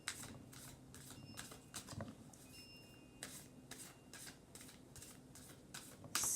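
Tarot cards are shuffled up close, in quick repeated riffling bursts with short pauses between them, no voices.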